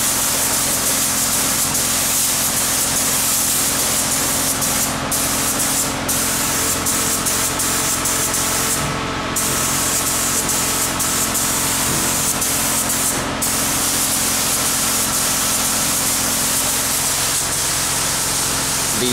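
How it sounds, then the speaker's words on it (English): A steady, loud hiss of spray painting on a car body runs continuously, with a few brief pauses and a low mechanical hum underneath. "spray a little paint in here"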